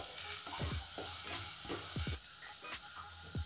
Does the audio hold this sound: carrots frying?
yes